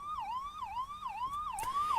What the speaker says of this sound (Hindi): रात के अंधेरे में शहर के सन्नाटे को चीरते एम्बुलेंस के सायरन की आवाज